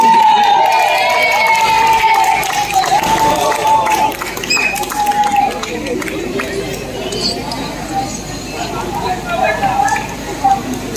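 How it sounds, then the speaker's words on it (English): An audience at the Kantharis Spread the Spice event in Trivandrum, Kerala, cheers and claps in a loud, busy crowd roar with shouts and chatter, fading slightly midway before swelling again. "Let's have a round of applause."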